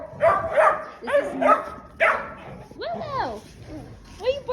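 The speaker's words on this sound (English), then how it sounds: "What are you barking for?" A small farm dog barks in a series of sharp, close yips and bow-wows, with whimpering, high-pitched yelping toward the end.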